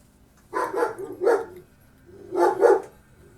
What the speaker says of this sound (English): we still hear the dogs down the hallway.